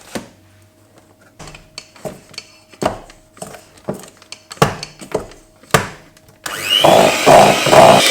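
An electric mixer beating cream cheese frosting with icing sugar starts with a short loud burst of steady whirring. Before it, a series of scraping knocks and clatters come from the bowl.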